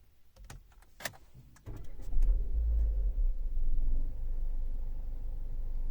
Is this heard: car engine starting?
yes